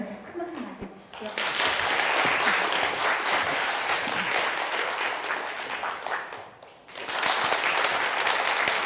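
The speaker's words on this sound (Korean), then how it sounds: "큰 박수 맞이해 주십시오" An audience at a lecture hall talk bursts into sustained applause welcoming the speaker, a dense wash of clapping that dips briefly and then swells again, with no voices over it.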